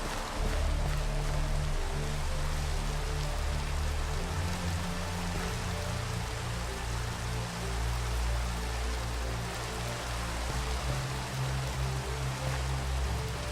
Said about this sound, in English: there's that rain I was waiting for